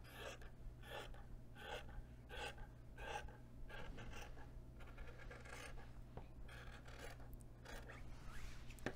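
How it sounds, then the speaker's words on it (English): Quiet, repeated scratchy snips and rasping strokes of fabric scissors cutting through fabric, in an uneven rhythm over a low steady hum. "I'm going to use my fabric scissors"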